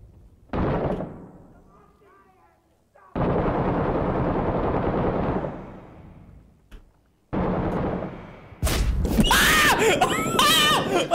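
Loud shotgun blasts and chaotic gunfire in the combat video game Six Days in Fallujah, coming in separate heavy bursts with short quiet gaps between them, and a harsh jumble of shots and shouting toward the end.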